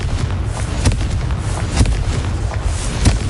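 A Confringo spell blast in Hogwarts Legacy rumbles with deep, continuous booming and several sharper cracking bursts, loud and close throughout.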